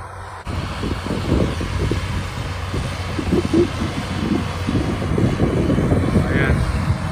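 An air-conditioned farm tractor pulling a hay baler rumbles steadily in a Canadian hay field as it rolls a bale, a continuous low engine drone with wind noise, and someone talks over it at close range.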